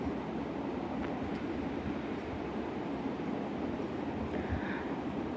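A sewing machine stitches around the armhole of a baby frock, a continuous, even mechanical whirring rumble that runs steadily from start to finish at moderate volume.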